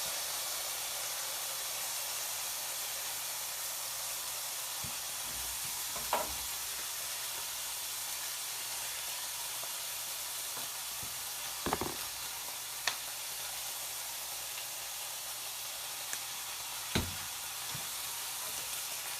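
Bacon fries in a pan with a steady, close, even sizzle and hiss, broken by a few sharp knocks and clinks of a utensil against the pan.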